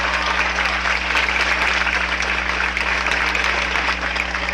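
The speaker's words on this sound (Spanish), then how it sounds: "Den otro aplauso por ellos, por favor." Sustained applause from a large crowd at a Cuban event, dense and steady clapping throughout with no break, fairly loud.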